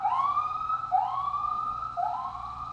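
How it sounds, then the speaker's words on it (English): A siren wails outside in New York in three rising, sweeping cycles, loud and fairly close, with a faint low rumble of traffic underneath. "Joys of living in New York, sirens outside."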